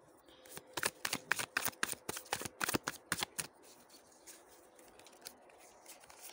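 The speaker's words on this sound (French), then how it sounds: "je vais tirer 3 cartes pour chaque" A deck of cards is shuffled in a quick run of crisp riffling flicks during a love-guidance card reading. The close, dry snaps last about three seconds, then give way to quiet rustling as cards are drawn.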